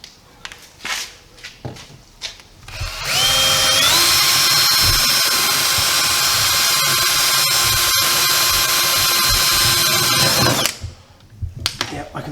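Power drill boring through old trim holes in the body of a VW T1 Deluxe. After a few quiet seconds of handling noise, a loud, close, high whine runs steadily for about seven seconds, then stops.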